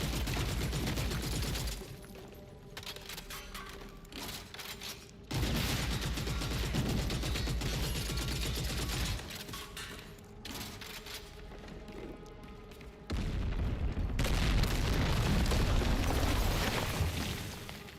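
Gunfire in Gears of War: E-Day: dense, sustained bursts of automatic weapon fire and heavy impacts, loud and close, with several abrupt shifts between intense firefights and slightly quieter stretches.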